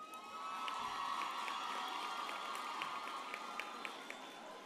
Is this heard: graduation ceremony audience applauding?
yes